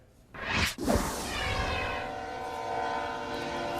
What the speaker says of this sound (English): And we also have a train going by, so we apologize about that.